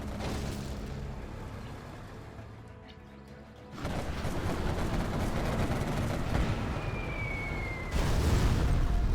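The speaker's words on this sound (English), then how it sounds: "the Scud has fired" A Scud missile launch in Command & Conquer Generals Zero Hour: a loud, sustained rumbling roar with a rising swell, followed by a heavier boom near the end amid dense battle noise.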